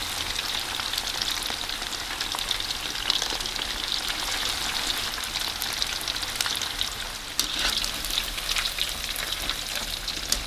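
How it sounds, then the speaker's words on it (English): Pork spare ribs deep frying in oil give a steady, close hiss of bubbling and crackle, with small pops scattered throughout and no talking. "we're going to add in all of the pork. And then we're going to cook it for about 8 to 10 minutes"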